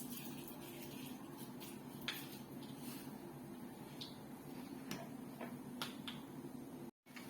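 Mustard seeds in hot oil, frying for an eggplant and okra curry, give faint, sparse pops and crackles scattered irregularly over a steady low sizzling hiss.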